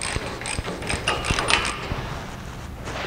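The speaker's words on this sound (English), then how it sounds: "let's go ahead and tighten the upper control arm cross shafts and then go ahead and tighten these up." A ratchet tightens the upper control arm cross shafts on a TCI Engineering chassis for a 1955-1959 Chevy, giving fast close clicking bursts with metallic mechanical rattles.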